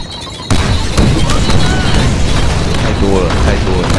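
A grenade explodes in the Deadpool video game: a sudden loud boom after a quiet start, followed by rumbling debris, crackle and continued combat noise with brief whistling tones.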